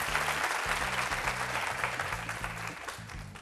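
Distant, fairly quiet applause from a studio audience for students on a youth debate program, steady clapping with a rhythmic low musical beat running beneath it.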